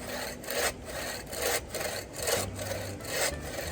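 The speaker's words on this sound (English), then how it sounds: "I'm trying to let the saw do the work." A bow saw cuts through wood in steady back-and-forth strokes, each pass a rasping rub that swells and fades, close and unhurried with no one talking.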